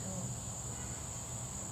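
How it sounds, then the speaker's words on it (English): Cicadas drone outdoors in a steady, high, continuous buzz at moderate distance, with a low hum of background noise underneath and no pauses. "I can hear the cicadas."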